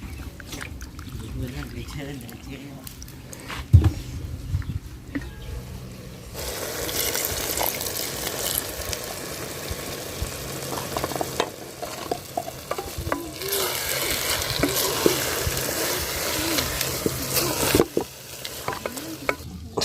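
Seasoning (a spoon of Royco) stirred into water in a pot while preparing chayotes in an African village kitchen; steady scraping and swirling with sizzling-like noise, growing louder midway, with a voice talking nearby.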